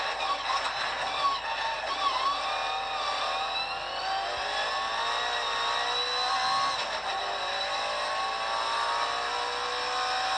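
A Mk1 race car engine, heard from inside the cockpit while racing, drones and revs steadily and loudly with rising and falling pitch through the gears, alone with no talk.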